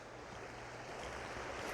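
Steady broadband rush of a creek flowing beside a forest trail near abandoned rail lines, caves and ruins, a continuous wash of water with no talk, close and moderately loud.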